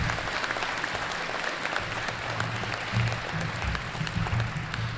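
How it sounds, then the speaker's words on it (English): A Hall of Fame induction ceremony audience gives a round of applause, dense continuous clapping filling the hall, loud and sustained with faint crowd murmur underneath. "let's actually give them a round of applause"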